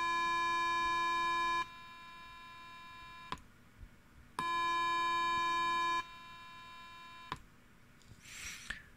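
Square-edged electronic tone from an LM741 op-amp ADSR envelope generator circuit sounds as steady buzzy beeps that switch on and off abruptly, two long bursts with sharp clicks at their edges over a faint hum.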